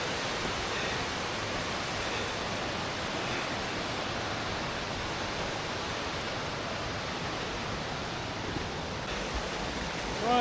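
Deep jungle river rushing at a trail crossing, a continuous close roar of flowing water that stays even and loud from start to finish, with nothing else audible over it.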